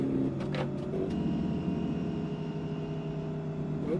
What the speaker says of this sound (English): Missed a few gears in that downshift, didn't we?